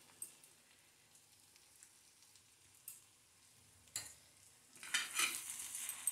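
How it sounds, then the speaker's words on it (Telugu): Okra fry (bendakaya karam) being stirred in a pan after salt is added: faint, quiet scrapes and soft taps at first, then a louder burst of sizzling and spatula scraping near the end, with no talking. "వేసుకుని బాగా కలిపేసుకుందాం."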